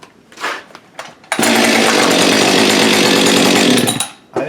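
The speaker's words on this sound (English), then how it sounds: "That is a much better running saw." A Holzfforma G372XT clone chainsaw roars at a steady high pitch for about three seconds, loud and close, after a few short revs, then drops back toward idle.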